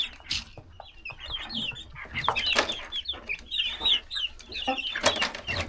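Chickens in a coop cluck and squawk repeatedly, close by, with scattered sharp calls over a steady background of farmyard noise.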